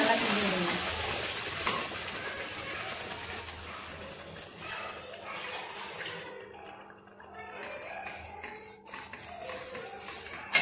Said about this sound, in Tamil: அதுக்கப்புறம் நம்ம ஃபைனாக அரைச்சி வச்சுருக்க இந்த தக்காளி வெங்காயம் இஞ்சி நல்லா கிண்டி விடுங்க